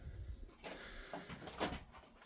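The front door of a spacious UK house for sale in Watton, Norfolk, opens with a few soft clunks and a brief rattle, quiet and close, with no talking.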